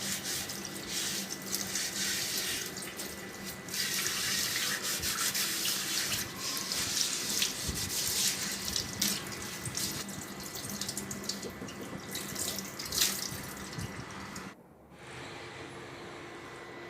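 A new clay pot being washed under a running tap indoors: steady splashing water with rubbing and scrubbing, close by, which drops to a quieter trickle near the end.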